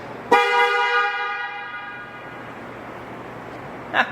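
A single loud car horn honk from a Lamborghini Diablo VT Roadster, sounded from the steering wheel, then fades slowly into quiet background noise, with a brief faint tap near the end.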